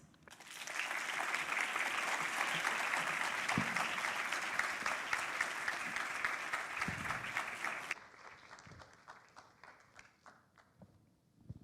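A crowd at a United Nations campaign event against violence toward women gives sustained, dense applause that holds strong for several seconds, then drops abruptly to a thinner scatter of claps that trails off.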